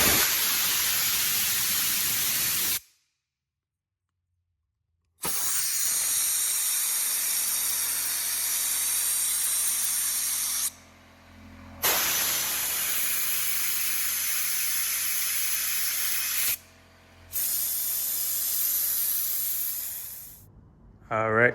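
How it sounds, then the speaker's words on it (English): Air blown in strong hissing bursts through the carburetor hoses and jets of a 2007 Honda CRF250R engine, several long sprays separated by short silences, close and loud with no talking. "I'm gonna blow through the jets"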